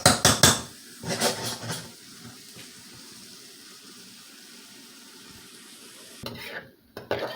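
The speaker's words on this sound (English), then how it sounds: "You get a little saute, a little stir, nothing big." Onions sautéing in a pan for okra rice with salt fish, with bursts of clattering stirring at the start and end around a quieter stretch of soft, steady frying hiss.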